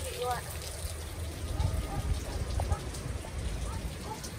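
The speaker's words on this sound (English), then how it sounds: "Look at the beautiful rain coming out there." Steady rain pattering down outdoors, a constant wash of drops with faint voices briefly in the background.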